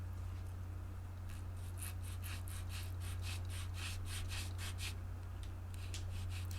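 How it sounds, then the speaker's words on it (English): A fine Montana-made rasp files the wood of a cracked Taylor acoustic guitar heel during a neck reset, giving about a dozen quick, steady rasping strokes close by over a constant low electrical hum, with no talking. "This is a fine rasp. That rasp gets more use than any other rasp in the drawer."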